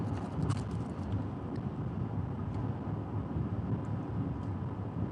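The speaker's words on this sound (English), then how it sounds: "So you can just listen to the road noise for a while." Steady low rumble of tires and engine inside a car moving through Texas, constant and broadband with faint wind hiss, no talking.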